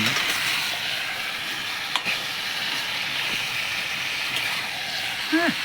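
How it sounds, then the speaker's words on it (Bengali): Chicken sizzles steadily in a hot frying pan as it is stirred, with faint scrapes and clinks breaking through the constant hiss. "রান্না হচ্ছে চিকেন"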